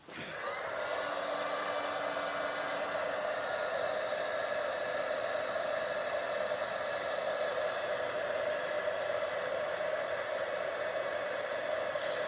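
A heat tool blows hot air onto texture paste, making a constant close, loud whooshing roar that starts almost immediately and holds steady throughout with no talking.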